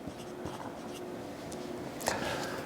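Handwriting on a surface during a Python lesson, a steady scratchy stroking of pen or marker, close and moderately loud, with a sharper tap near the end.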